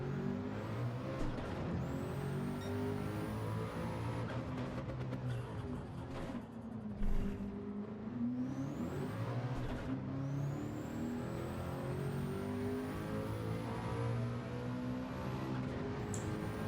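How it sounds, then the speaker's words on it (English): Race car engine in the Gran Turismo 7 driving game climbs and drops in pitch while accelerating out of a corner, a steady droning whine with gear-change dips, loud and continuous. "Car didn't want to accelerate out of there"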